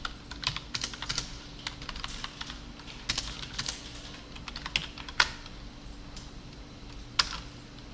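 Keys clack on a computer keyboard as code is written, irregular bursts of close taps with short pauses and a few sharper, louder strikes, with no voices.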